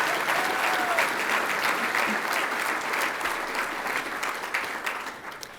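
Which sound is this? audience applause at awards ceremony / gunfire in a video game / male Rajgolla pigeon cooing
audience applause at awards ceremony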